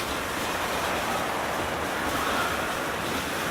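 Stadium crowd noise in the football video game eFootball 2025 on a clear evening, a broad, steady roar like surf that stays even and loud throughout with no distinct voices.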